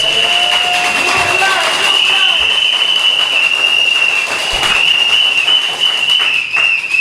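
Audience at an outdoor political rally in Grande Riviere, Gros Islet, clapping and cheering steadily throughout, with a sustained whistle or high ringing tone riding over the crowd noise.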